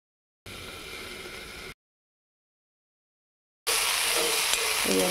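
Bitter gourd frying in a pan gives two separate bursts of close, hissing sizzle, a shorter one followed by a long gap of silence, then a louder, brighter sizzle running to the end.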